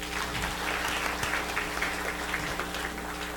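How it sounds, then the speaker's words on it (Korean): A church congregation at a Sunday afternoon service claps together, a steady moderate wash of applause with a few sharper individual claps, with no talking over it. "다시 한번 박수 칠까요?"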